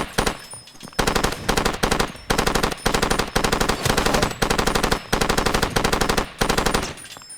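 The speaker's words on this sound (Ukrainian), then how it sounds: "Перегрівається кулемет." A machine gun fires in the video game Far Cry 2, loud rapid automatic bursts repeating almost continuously with only brief breaks.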